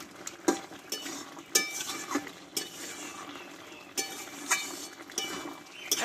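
Pumpkin and potato with panch phoron spices being stirred in a pan for a vegetarian dish: a metal spoon scrapes and clinks against the pan in irregular strokes, with a few sharp knocks over a soft cooking hiss.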